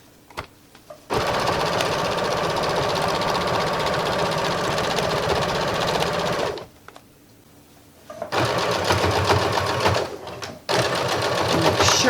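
Sewing machine stitching a pocket onto a reversible shoulder bag, running steadily for about five seconds, pausing, then resuming in two more close, loud bursts.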